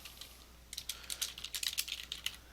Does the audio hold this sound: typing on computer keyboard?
yes